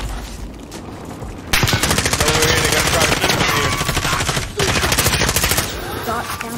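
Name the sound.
gunfire in Call of Duty: Warzone video game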